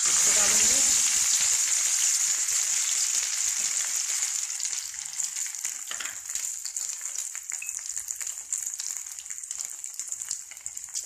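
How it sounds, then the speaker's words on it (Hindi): Crushed ginger hits hot oil in a pan with a bright, loud sizzle. The sizzle settles into steady, softer frying crackle and spatter. "थोड़ा अदरक कूट के रखा था, इसको डालेंगे।"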